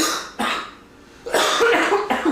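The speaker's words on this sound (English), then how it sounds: "Just coughing." A few harsh coughs close up: one short burst, a pause, then a longer rough fit of coughing that tails off into a final hack.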